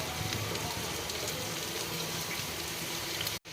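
Garlic, carrot, tomato, green chillies and dried red chillies sizzle steadily in a pan as they are sautéed for carrot chutney, a continuous close, even frying hiss that cuts off briefly near the end.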